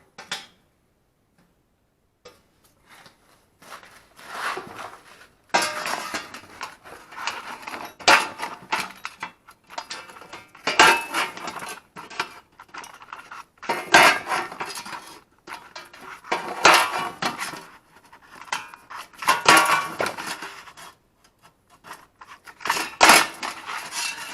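A tool punches holes in a metal panel for a Fiat 124 Spider battery box, giving sharp metallic clanks and clinks in irregular bursts separated by brief quiet gaps, close by and with no talking.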